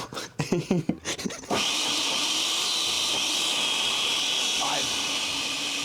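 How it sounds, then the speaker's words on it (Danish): A blender whirs through a smoothie with a steady, loud, continuous roar after a brief burst of voices and handling noise at the start. "Lad os komme i gang med at blende det."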